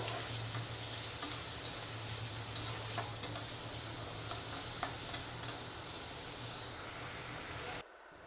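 A pan of chopped onions fries with a constant close hiss and sizzle and light crackles throughout. The sound cuts off abruptly near the end.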